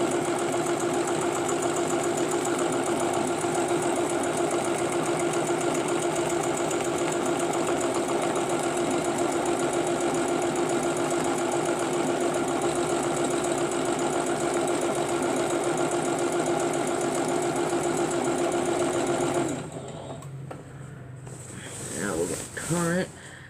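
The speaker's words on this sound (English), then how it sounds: "Well, let's try to sew 2 of them on." A sewing machine stitching quilt pieces for an orange peel quilt runs as a steady, close mechanical hum for about twenty seconds, then stops, leaving quieter handling noises and brief talk.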